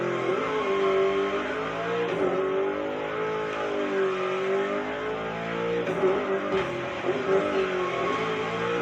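A car drifts in The Crew Motorfest racing game, its engine droning and revving steadily through the whole stretch with wavering pitch as it slides through turns, loud and continuous with no talking.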